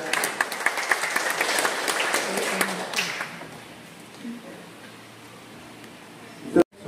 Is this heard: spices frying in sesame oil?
no